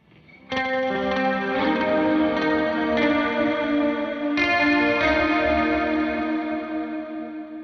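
Dry electric guitar through a Meris micro shift pitch effect, with chords strummed and left to ring and a shimmering, chorus-like doubled wobble on each sustained note, played alone and up close.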